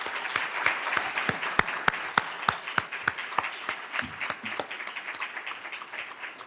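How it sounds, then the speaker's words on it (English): Audience applause for participants at a university Three Minute Thesis competition: crisp, distinct handclaps from a modest crowd, fairly close, a steady rapid patter that thins toward the end. "join me in a round of applause for our 3MT participants"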